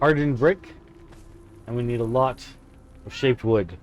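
A pet cat meows twice in the background, faint and brief, while someone talks over it.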